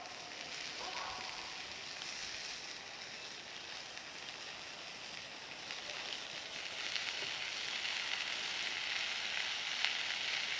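Wood fire crackling and hissing inside an outdoor front-loading batch-burn rocket stove, a steady broadband rush that swells slightly louder toward the end, heard close with no talk.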